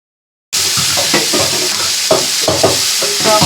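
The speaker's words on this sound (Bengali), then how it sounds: "টক দই দিয়ে আবার একটু নাড়াচাড়া করে নিচ্ছি" Spice paste with sour yogurt and kasuri methi for a sorputi fish curry sizzles loudly in a pan after a brief silence, with a steady hiss broken by repeated scraping and clinking stirs.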